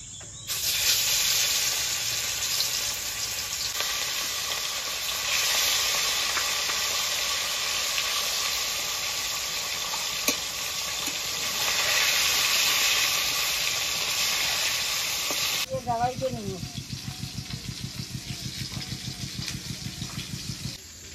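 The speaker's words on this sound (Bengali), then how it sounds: "তেলটা গরম হয়ে গেছে, এবার মাছগুলোকে ভেজে নেব।" Chital fish pieces rubbed with salt and turmeric sizzle loudly and steadily in hot oil, a dense hiss for most of the stretch before it drops to a lower, choppier crackle near the end.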